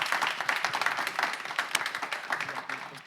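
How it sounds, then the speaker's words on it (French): Audience applause at a live event, a steady wash of clapping from a crowd that holds at an even level for about three seconds, dense and fairly close with no pauses. "il y a eu un petit temps de latence avant que les applaudissements ne naissent"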